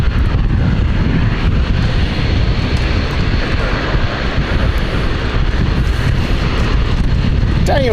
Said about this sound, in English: Oh, another ITA coming in. This is the Milan flight.